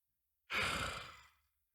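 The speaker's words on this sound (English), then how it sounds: "I literally just yawned out of nowhere uncontrollably." A person yawns once, a single drawn-out breathy exhale that swells loudly and then fades, close to the microphone with no talking.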